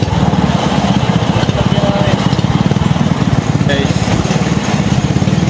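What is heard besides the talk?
engine of a motorized rail skate in Bicol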